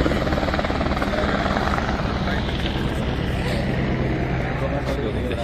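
A helicopter flies overhead near Panchtarni, a loud, continuous rotor drone and chop that fills the whole stretch, with indistinct voices faintly underneath.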